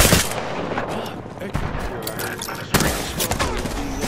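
Dense bursts of automatic gunfire in the video game Apex Legends, loud overlapping volleys with sharp shot transients and a heavy burst near the end, with a player's voice talking under it.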